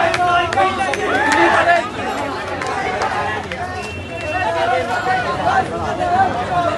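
Students at a college Rag Day rally in Chittagong raise a loud, lively crowd din of overlapping voices, rhythmic shouting and chatter, close and continuous.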